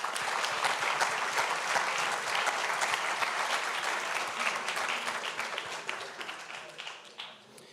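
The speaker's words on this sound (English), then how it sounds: "So another round of applause, please." An audience at an open source conference talk gives a steady round of dense applause that holds evenly, then thins out and fades near the end.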